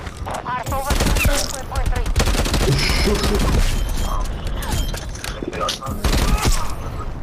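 Teammate gunfire in Black Ops Cold War, hardcore Nuketown: rapid bursts of shots and impacts over loud game noise, with a voice shouting over it near the start.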